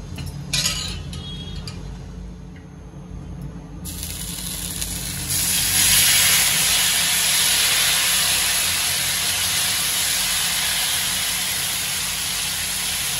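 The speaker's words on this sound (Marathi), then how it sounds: "आता याच्यात मी घावण टाकून घेते।" Ragi batter hits a hot pan and breaks into a loud, steady, close sizzle that swells after a few seconds of quieter clinking and kitchen noise, then holds as a continuous hiss.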